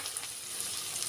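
Lemon juice poured into a hot pan while cooking lemon rice (chitranna), giving a steady, close hiss and sizzle throughout with no voices.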